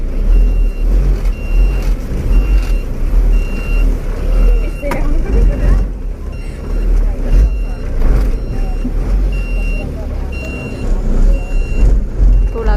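A truck backs into a parking spot on arrival at a destination, its reversing beeper faintly repeating over steady engine rumble while people talk inside a nearby vehicle.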